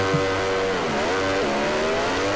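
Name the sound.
Ducati MotoGP bikes launching at race start, video game MotoGP 19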